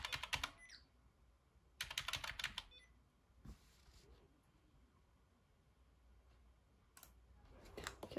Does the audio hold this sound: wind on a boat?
no